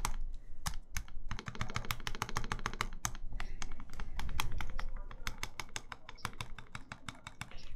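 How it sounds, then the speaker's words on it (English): Typing on a custom mechanical keyboard with lubed Gateron Ink switches and a rattly spacebar makes rapid, crisp, irregular clacks, close and clear with no talk. "That spacebar sounds rattly."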